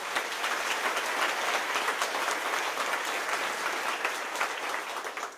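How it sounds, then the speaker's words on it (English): Audience at a Syracuse event with Governor Cuomo applauds local government partners, a thick, sustained roar of clapping from many hands holding steady throughout, with brighter individual claps flickering in the mix and no talk over it. "Let's give them a round of applause."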